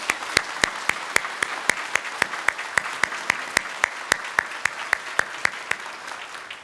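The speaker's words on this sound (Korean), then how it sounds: "우리 박수로 환영하도록 하겠습니다" A church congregation at a Korean Sunday worship service claps in unison to welcome newcomers, sharp rhythmic claps evenly spaced about three per second, steady throughout over a soft room wash.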